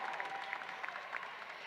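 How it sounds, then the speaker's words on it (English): An audience at a high school graduation ceremony claps steadily and fairly evenly throughout, a faint, distant-sounding round of applause in a large hall. "Give her a big round of applause."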